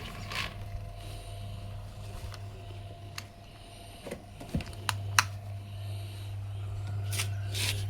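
Electric table fan, opened up for servicing, switched on and starting to rotate: a steady low motor hum throughout, with scattered clicks and knocks from handling nearby.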